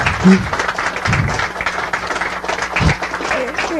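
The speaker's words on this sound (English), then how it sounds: "let's give both our interviewer and our author a round of applause." An audience at a book talk with an author and interviewer gives a round of applause, a loud, even patter of many hands clapping close by, with a few louder claps and murmurs mixed in.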